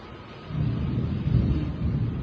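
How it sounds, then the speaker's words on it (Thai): A low rumble of thunder rolls in and swells for a couple of seconds, deep and distant, with no talking. "เสียงฟ้าร้องทุกคน เสียงธรรมชาตินะคะ"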